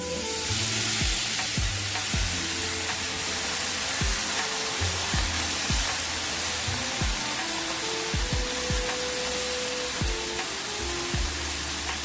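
Drumstick (moringa) leaves sizzle steadily as they are sautéed in a pan, a constant frying hiss broken by scattered soft knocks of stirring.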